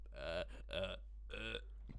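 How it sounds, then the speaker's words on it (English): Several voiced burps from a person on a podcast, three drawn-out belches in close succession, close to the microphone in a quiet room with no talk over them. "Oh god, I'm burping."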